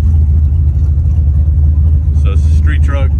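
A street truck being driven on the road, its engine rumbling steadily and loud from inside the cab, with a person talking briefly near the end.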